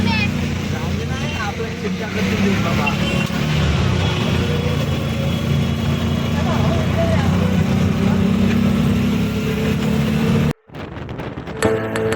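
Auto rickshaw riding through city traffic, a steady engine drone with road noise and passing vehicles throughout, loud and close, briefly cut near the end before resuming.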